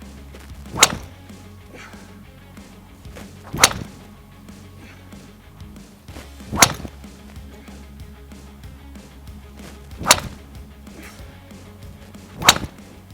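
Golf drivers on 48-inch shafts, one with an Ai Smoke head and one with a 4.5-degree long drive head, strike balls in five sharp, loud cracks spaced about three seconds apart, with quiet between.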